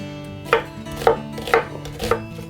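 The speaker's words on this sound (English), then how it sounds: "So now we're gonna kind of cut it in wedges, if it makes sense, like that, see?" Knife chopping an onion into wedges on a cutting board, four sharp evenly spaced chops, close and clear with no talk.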